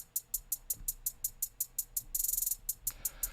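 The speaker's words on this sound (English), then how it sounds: "A lot of hat rolls that sound like this." Crisp hi-hat pattern from a trap beat, steady ticking eighths that break into a quick roll of rapid hits midway before returning to the even pulse, heard alone.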